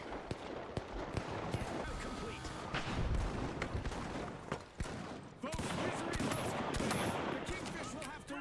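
Dense, rapid gunfire pours in during a match of the video game The Finals as the player is shot at from two directions, a continuous barrage of loud cracks and impacts running throughout, with a voice talking over it.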